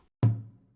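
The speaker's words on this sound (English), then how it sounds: "The next thing I added was this tom hit that sounds like this" A single deep tom drum hit from an ambient R&B beat made in FL Studio, punchy and booming, decaying quickly in a clean, isolated sample.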